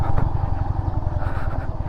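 A motorcycle rumbles steadily as it rides over a rough, rocky hill road strewn with large stones, with the engine loud and close and a pulsing, uneven rhythm.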